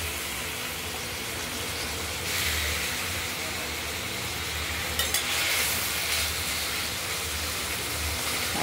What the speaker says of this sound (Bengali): এবার চিংড়ি মাছগুলোকে আমরা ভেজে নেব